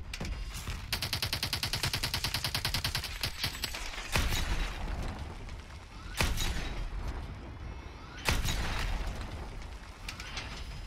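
Rapid bursts of automatic gunfire in the video game Call of Duty: Advanced Warfare rattle continuously, punctuated by several louder single shots at intervals, dense and close.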